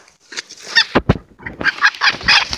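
A hen squawks and clucks in agitated bursts while being caught by hand, loud and close, the calls broken by a couple of thumps and scuffling before a longer run of frantic squawks.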